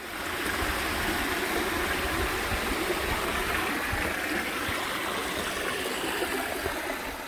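Continuous rushing water from a waterfall beside a cliff trekking trail, a steady broadband roar that stays even from start to finish with no voices.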